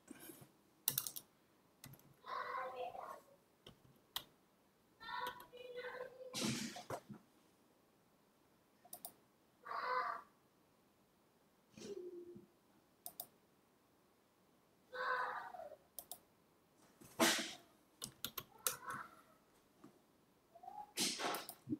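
Keys on a computer keyboard are tapped in quick, irregular bursts of crisp clicks, close and fairly quiet, separated by short pauses.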